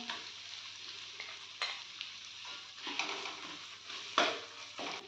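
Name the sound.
frying garlic, onion and cumin paste for prawn curry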